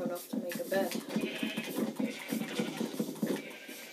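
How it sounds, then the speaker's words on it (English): Sheep in the Minecraft video game bleat in short repeated calls close by, mixed with light game sounds and a voice talking over them. "I'm gonna get this sheep also"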